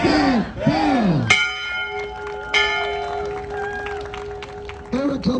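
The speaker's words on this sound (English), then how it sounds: "Isabella, ring that bell." A bell at a Class of 2023 graduation ceremony is struck twice, each strike ringing out with a long, sustained metallic tone. Voices speak just before and after the rings.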